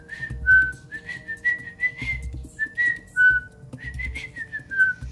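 A person whistling a tune, a clear melodic line of short and held notes in a steady rhythm, close and fairly loud, with light low-pitched background thumps under some phrases.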